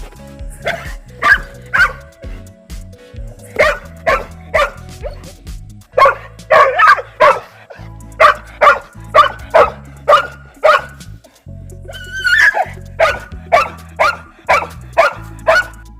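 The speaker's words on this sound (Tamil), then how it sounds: "எப்போ நம்ம மாடுகளை அவுத்தாலும் கண்ணுக்குட்டி அவுத்தாலும் நம்ம நாய் கத்திக்கிட்டே இருப்பான்." A dog barks repeatedly in quick bursts, loud and close, with short pauses between runs of barks and a few higher yips.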